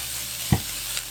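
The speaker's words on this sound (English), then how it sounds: "You have to fry them to the point they are soft and caramelized." Onions fry in a pan while breaded meat cutlets are being cooked, a soft continuous sizzle broken by one brief thump from the pan and a fainter knock just after.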